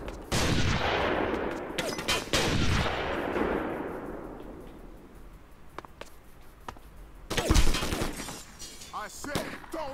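Sniper rifles fire in the video game 25 to Life: several sharp, loud shots with long echoing tails and glassy crashes, a lull, then a fresh cluster of heavy shots near the end.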